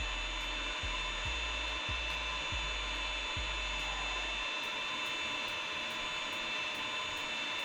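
An Ender 5 3D printer fitted with a BLTouch upgrade printing layers, giving off a steady, even whir with faint regular ticking. A low pulsing hum underneath fades out partway through.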